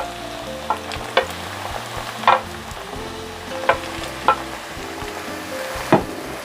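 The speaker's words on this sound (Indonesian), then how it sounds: "Tempenya sebelum dimasak saya goreng dulu ya" Tempeh frying in hot oil, a dense continuous sizzle with sharp crackles and pops every second or so, close and fairly loud with no talking.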